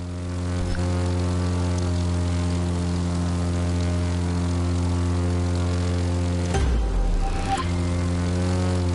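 A propeller airplane in The Crew 2 drones steadily with a strong, even engine hum, joined by a brief louder whoosh and rumble near the end, with no talking.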